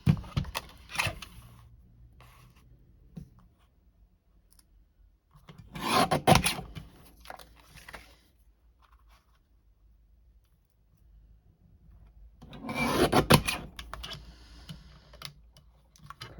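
Card is trimmed down to size for a stamped papercraft project, heard as three short bursts of rasping, scraping cuts spaced several seconds apart, with quiet near-silence between them.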